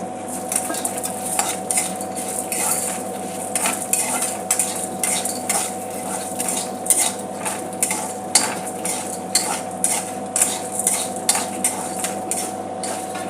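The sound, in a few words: sautéing chana dal and urad dal in a pan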